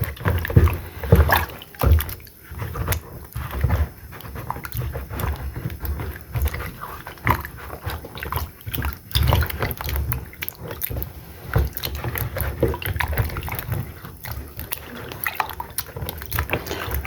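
Salted fish is washed under water in a kitchen, with irregular close splashes, drips and sloshing as it is handled, continuing throughout with no talking.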